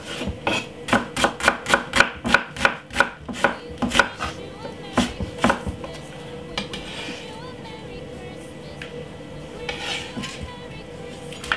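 Red onion chopped on a board with a knife, a quick run of about a dozen crisp, evenly spaced knocks that then thin out to a few scattered strokes, close and fairly loud, followed by quieter kitchen handling.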